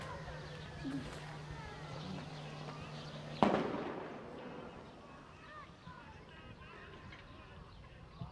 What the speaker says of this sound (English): It's a sound bomb.